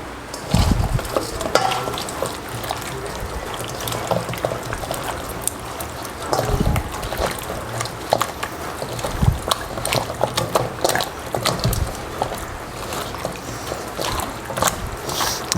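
Chicken is hand-mixed in a marinade of kanthari chilli, lime and salt for Al Faham, producing close, wet squelching and stirring sounds in irregular bursts.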